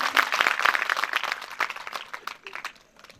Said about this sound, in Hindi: तालियां तो हो जानी चाहिए